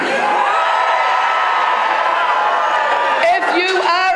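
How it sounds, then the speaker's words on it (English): Striking teachers at a pay and conditions street protest cheer and whoop as a crowd, a loud continuous roar of voices with rising yells near the end. "give me a cheer"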